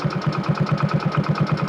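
A new motorcycle engine idling close by, a fast, even put-put pulse of firing beats that stays steady and loud for the whole stretch, with no talking.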